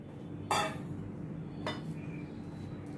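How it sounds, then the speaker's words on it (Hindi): Food is tipped into a metal pressure cooker in a home kitchen, giving two brief metallic clinks and clatters of utensil against pot over a steady low room hum, with no talking. "अभी इसको मैं कुकर में डालती हूँ।"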